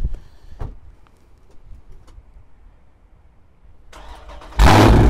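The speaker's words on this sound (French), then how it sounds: "Je vais mettre le moteur en marche." A Dodge Challenger R/T Scat Pack Widebody with a 6.4-litre V8 HEMI sits quietly with faint ticks and shuffles, then its starter cranks briefly and the engine bursts to life in a loud, close, roaring catch near the end.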